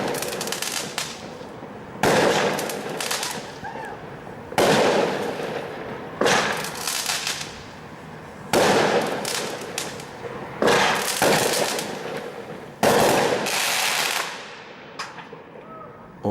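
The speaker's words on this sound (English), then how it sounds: "the neighbours are setting off fireworks" Neighbours' fireworks on Bonfire Night go off in a string of loud bursts, each a sharp bang followed by crackling and fizzing that trails away before the next, about seven in sixteen seconds, with no talking.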